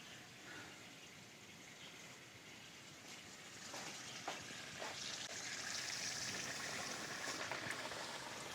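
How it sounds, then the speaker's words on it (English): Flour-dusted frybread dough frying in hot grease gives a soft, continuous sizzle, faint and distant at first and swelling slightly about halfway through, with no voices. "I'm going to put it in the grease, and I'm flattening it out more"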